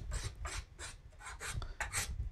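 Hand sanding of a wood carving with 180 grit sandpaper, a close rasping rub in steady back-and-forth strokes, about nine passes at an even rhythm with no voices.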